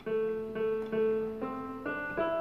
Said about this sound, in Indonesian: ini suara dari keyboard yang ada di handphone ini